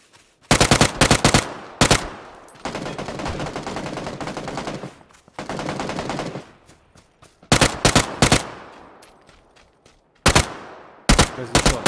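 Gunfire rings out in the game PUBG: loud, close bursts of rapid automatic shots alternate with stretches of sustained firing, then more short sharp volleys near the end.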